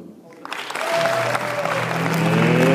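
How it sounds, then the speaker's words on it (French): A morning-show audience in Lyon gives a thunderous welcome for a guest, clapping and crowd noise rising quickly and building alongside a sustained tonal note, like music, underneath. "de lui réserver un tonnerre d'applaudissements"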